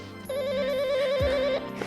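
A telephone rings with a warbling electronic tone, one burst lasting over a second at moderate level, with a low thud near the end and no talk.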